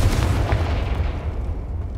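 A Confringo blasting spell explodes in Hogwarts Legacy, a loud broad boom that rumbles on continuously for the full two seconds with no voices over it.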